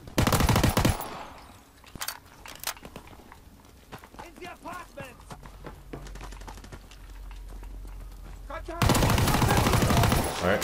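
Heavy machine gun fire from a Call of Duty WW2 match, with loud sustained bursts at the start and end and quieter, scattered shots and battle noise under a talking voice in between.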